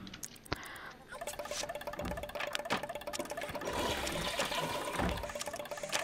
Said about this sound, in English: Why don't you use the loo and take a bath?